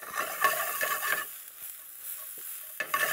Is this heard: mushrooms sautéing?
yes